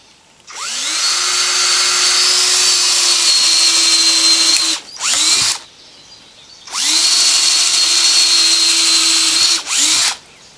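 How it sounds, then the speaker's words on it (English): A power drill whirs in two long steady runs, each followed by a short extra burst, loud and close with no talking. "I was going to drill it first."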